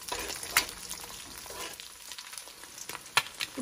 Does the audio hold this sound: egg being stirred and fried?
yes